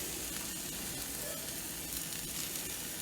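Venison melt topped with three slices of provolone cheese sizzles steadily on a hot surface, a close, continuous frying hiss with faint crackles throughout and no talking.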